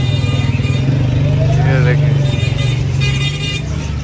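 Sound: busy market street traffic with cars, motorcycles and horns

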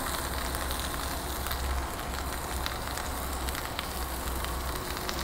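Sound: Dijon skillet potatoes and broccoli cooking on an outdoor grill

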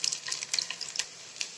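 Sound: garlic frying in hot oil

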